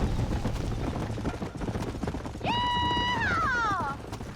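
A horse in the Red Dead Redemption video game gives a loud, high whinny that glides downward near the end of the clip, over a steady bed of game noise and galloping clatter.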